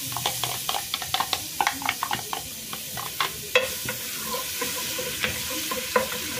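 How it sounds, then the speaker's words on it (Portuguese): Crushed garlic frying in oil in a pan, a steady crackling sizzle with frequent stirring scrapes and clicks, close and continuous without speech. "Coloco o óleo, alho triturado que eu tenho aqui"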